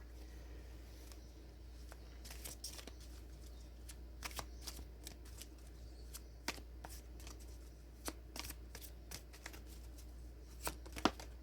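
Tarot cards are shuffled by hand, producing a soft, continuous riffling with sharper slaps and flicks at irregular intervals, close and fairly quiet.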